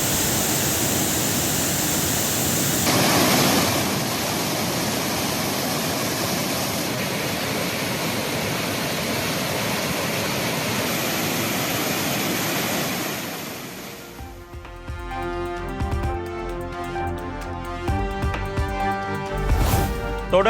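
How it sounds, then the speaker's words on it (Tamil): Thirparappu waterfall in Kanniyakumari district gushes after continuous rain, a loud, steady roar of pouring water that gives way to music partway through. "கன்னியாகுமரி மாவட்டத்தில் பெய்து வரும் தொடர் மழையால் திருப்பரப்பு அருவியில் ஆர்ப்பரித்து கொட்டும் தண்ணீர்"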